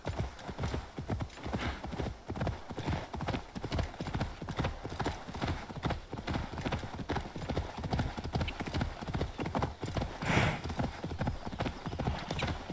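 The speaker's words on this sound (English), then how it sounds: "Horse, go faster," A horse gallops in Assassin's Creed Valhalla, a steady rapid clip-clop of hooves running throughout at close range, with a brief whinny and occasional faint game sounds layered over the rhythm.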